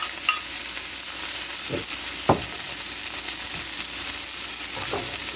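Vegetables, parsley and butter go into a hot pan beside a scored sirloin steak, giving a steady loud sizzle with a few stirring scrapes and soft knocks over the frying hiss.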